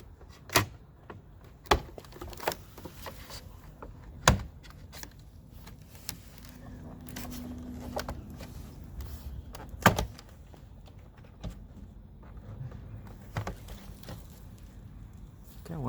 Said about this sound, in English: taking the clips apart, popping the clips out of the door